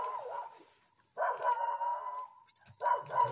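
A dog barks outdoors in a deserted, bandit-prone area, in two or three short bursts of yips and barks separated by brief pauses, fairly close and moderately loud.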